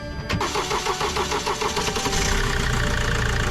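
A Mercedes Sprinter W906 diesel engine cranks briefly and catches, then settles into a steady, close, rough idle with a rhythmic clatter.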